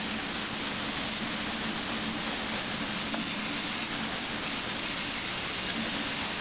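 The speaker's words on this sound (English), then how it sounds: "This is even an old gator belt that I use for shining up the edge a bit." A belt grinder fitted with an old gator belt hones a knife edge, giving a loud, constant abrasive hiss and motor roar that holds steady throughout.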